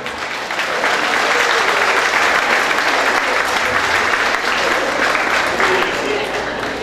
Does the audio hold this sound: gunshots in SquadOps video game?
no